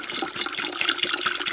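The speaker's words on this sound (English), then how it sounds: "What you do is you pour just some white vinegar, or some vinegar in." White vinegar poured into a large kettle for descaling, a continuous close liquid splash and gurgle with a slightly pulsing rhythm, heard alone without talk.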